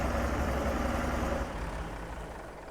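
A white farm tractor with many hours on it runs steadily at idle, a continuous low diesel rumble held close and loud throughout, easing slightly toward the end.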